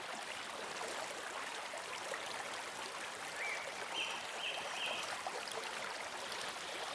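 Steady rushing flow of a river in the Sonoran Desert, a continuous broadband wash of water that stays even and moderately loud throughout, with a few faint bird chirps rising briefly above it midway.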